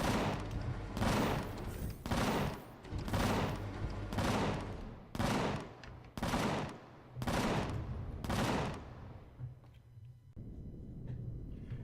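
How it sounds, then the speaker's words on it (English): Ships fire in the space game Empyrion, loud rapid volleys of gunfire in repeated bursts about a second apart, each a dense rattling roar, before the shooting stops and a low rumble remains. "I'm not sure what it's shooting at now, but they're shooting at somebody."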